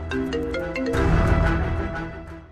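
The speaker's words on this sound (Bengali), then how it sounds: "ওর স্কুল থেকে ফোন দিচ্ছে, নিশ্চয়ই নালিশ করতে ফোন দিচ্ছে।" A phone rings indoors in a domestic scene with a repeating electronic ringtone, loud and close, over a low background hum and no talk.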